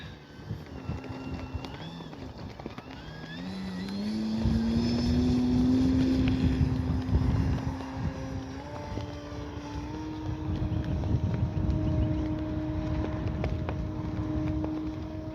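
A Hangar 9 J-3 Cub RC airplane with an electric motor and propeller flies overhead outdoors, its whine rising and falling in pitch as it passes and manoeuvres, moderately near with faint background noise.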